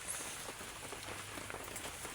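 Steady morning rain falling outdoors, a dense, even hiss of drops with faint scattered patter throughout, fairly quiet and with no voices.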